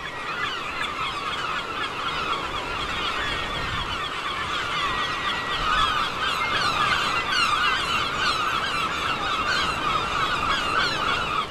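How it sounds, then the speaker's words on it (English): A crowd of seagulls squabbles noisily over a newborn grey seal's placenta on the shore, with dense overlapping calls and squawks going on steadily throughout and no talk. "The seagulls fight over the placenta and amniotic sac."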